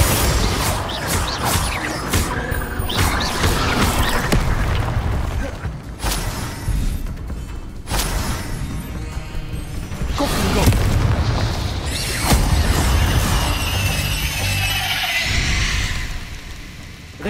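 Confringo fire spells in the Hogwarts Legacy video game bursting into a series of booming explosions with crackling impacts, repeated over and over across a long stretch of loud combat.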